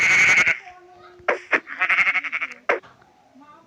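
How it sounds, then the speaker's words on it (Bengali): A Minecraft sheep bleats in short wavering calls, one at the start and a few more after a pause, loud and close with quiet gaps between. "একটা সিপ আছে ওকে মেরে আগে খাল চামড়া উঠিয়ে দিই"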